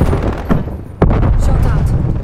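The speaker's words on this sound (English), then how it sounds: "Strafe run incoming on your location." Strafe run attack in the shooter Call of Duty Cold War: booming low impacts and bursts of gunfire-like hits, with a sharp heavy blast about halfway through followed by sustained rumbling, loud and close.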